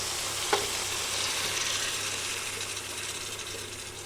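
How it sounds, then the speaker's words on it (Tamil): Boiled goat head meat tipped with its cooking water into frying masala, giving a steady close sizzle with a brief splash near the start, no voices. "நம்ம வேக வச்சு எடுத்து வச்சுருக்கிற இந்த தலைக்கறியை இந்த தண்ணியோடவே சேர்த்துக்கலாம்"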